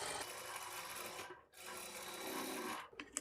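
A sewing machine stitches a lining blouse, running in two sustained whirring bursts separated by a short pause, close and steady, with a few small clicks as it stops at the end.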